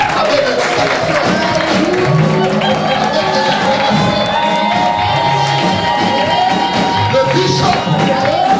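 A church congregation cheers and applauds, a loud continuous crowd roar with shouts and whoops filling the whole stretch.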